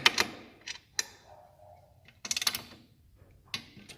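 An Allen wrench tightens pannier bracket bolts on a 2020 Africa Twin Adventure Sports ES, giving sharp metallic clicks and ratcheting taps in short bursts with quiet gaps between them, close by and without talk.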